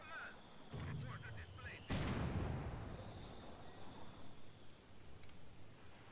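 Mortar artillery fire in the World War II strategy game Company of Heroes 2: a sharp blast followed by a sustained rumbling boom, with an earlier thud, set against a constant battlefield din.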